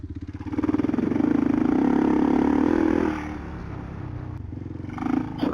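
A KLR650 dual-sport motorcycle chugs along at low revs in second gear on a trail ride, with a steady, throbbing engine note close by that swells and then eases off.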